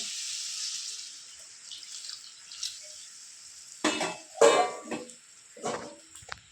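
Water pours steadily into a cooking pot of potato, pointed gourd and egg curry, followed by sizzling and stirring clatter nearby, with no voices.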